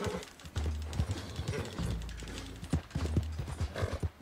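Horse hooves pound in a fast gallop in Red Dead Redemption 2, a steady close rhythmic clip-clop that continues the whole time.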